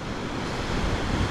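Ocean surf at Keramas Beach, Bali, a dense continuous roar of breaking waves with wind noise on the microphone, steady and close.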